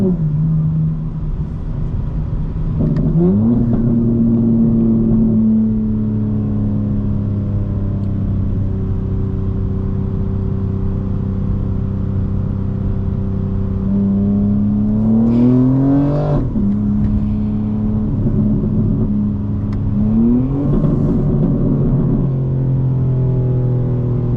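A 2025 BMW M4 Competition engine is driven hard, climbing through the revs in several loud, sustained accelerating pulls with sharp shifts between them and a steady close rumble throughout.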